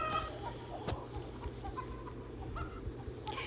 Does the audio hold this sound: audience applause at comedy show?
no